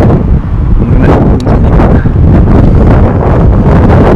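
Steady, loud wind buffeting a microphone, with a rumbling low roar and gusty rustle throughout, outdoors during window washing.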